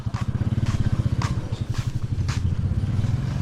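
A motorcycle idles close by with a fast, steady thumping engine pulse and faint clatter, loud and continuous throughout.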